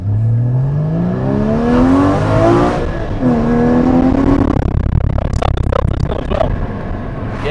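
Standard Porsche 981 Cayman GT4 engine pulling hard in second gear, rising in pitch through the revs, easing briefly, then climbing again before lifting off; loud, close and continuous with no talking.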